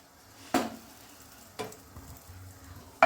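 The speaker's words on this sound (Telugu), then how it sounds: "బటర్ వేసేసుకొని పన్నీర్ని అయితే రోస్ట్ చేసుకోవాలండి" Paneer roasting in melted butter in a pan for veg dum biryani, a soft sizzle with two or three sharp stirring scrapes at intervals, no talk.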